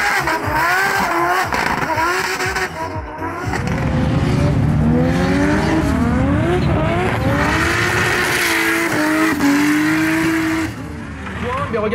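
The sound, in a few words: race cars during a motor racing practice session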